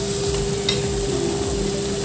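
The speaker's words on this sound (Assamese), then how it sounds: "নিমখটো যদি এনেদৰে অকণমান গৰম কৰি ভাজি দিওঁ" Salt and onions frying in a pan make a steady close sizzle with light stirring scrapes and a faint tonal hum in the background.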